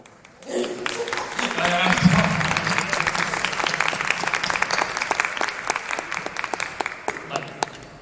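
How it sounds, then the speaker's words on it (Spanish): An audience bursts into applause at the opening of a live science show, rising quickly to a sustained, dense clapping that holds steady before tapering slightly, with a voice briefly heard near the start. "Va a dar comienzo el show científico Garuna Effect. Un aplauso."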